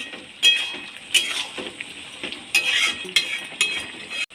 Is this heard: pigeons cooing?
no